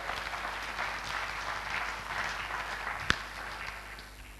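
Church congregation applauding during a sermon, a steady even wash of clapping hands with no voices over it and one sharp louder clap near the end.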